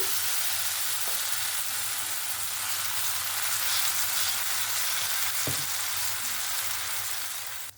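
Vegetable batter fries in a little oil in a pan, producing a steady, close, hissing sizzle that holds at a constant level throughout, with a couple of faint clinks.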